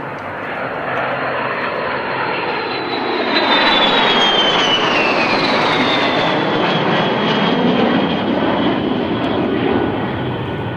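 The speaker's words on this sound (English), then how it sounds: "There's a distinct grumble that the Vampire engine certainly has" Jet engines of a Vampire, an L-39 and a Strikemaster roar loud and steady, with a rising whine passing overhead in the middle and a grumbling low rumble underneath.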